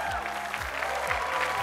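A live Indonesian stage show audience claps for a singer in a short, dense burst of crowd applause, heard over a sustained musical tone.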